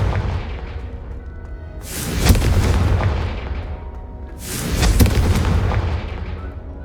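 The Confringo fire spell in Hogwarts Legacy sets off two loud, deep booming explosions a few seconds apart. Each blast swells and then rolls away into a long rumbling tail, with no talking.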